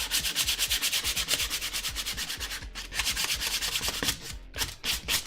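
Sandpaper is rubbed by hand over an armor piece in quick, rhythmic back-and-forth strokes, a close, steady scratchy rasp with brief pauses and no talk.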